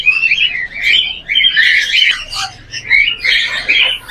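Cockatiels and common and cherry pied birds in a bird shop, chirping and squawking in a busy, overlapping chorus of close, shrill calls with brief gaps, alongside someone talking.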